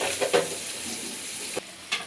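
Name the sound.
turnip being added to the pan and frying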